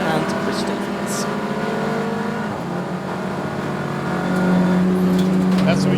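A race car in a Croft 750MC Roadsports circuit race rumbles past with a sustained engine drone that swells toward the end, heard under a commentator's voice.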